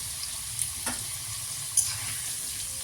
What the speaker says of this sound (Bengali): এই তেলে দিয়ে দিলাম পাঁচ ফোড়ন দিয়ে দিলাম আর তেজপাতা